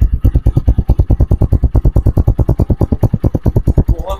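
A United US 150cc motorcycle engine idles steadily just after starting, with a rapid, even thumping pulse, loud and close, with no talking.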